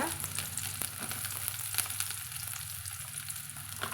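Chopped small onions hit hot oil already popping with mustard seeds, producing a loud, dense, continuous sizzle and crackle close by.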